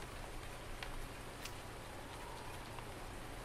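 Rain falls in Farming Simulator 19 with the Seasons Lite mod on PS4, on the Felsbrunn map. It makes a faint, even hiss of steady rainfall that never stops.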